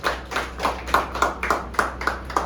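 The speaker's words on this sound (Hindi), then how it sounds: "एक बार ताली हो जाए मुक्ता जी के लिए।" Audience clapping at a company annual function in an indoor hall, a regular rhythmic beat of sharp claps roughly four per second, steady and moderately loud, with a low hum underneath.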